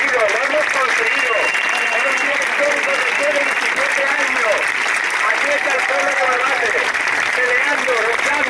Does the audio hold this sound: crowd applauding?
yes